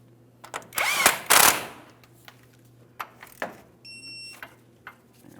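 Tightening a tie rod end mounting nut on a 2007-2014 GMC Sierra 2500 HD truck brings a loud burst of tool noise, then scattered sharp clicks and knocks, with a brief electronic beep near the end.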